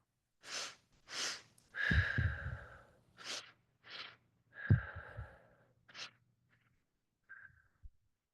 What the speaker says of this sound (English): Inhale, inhale, exhale.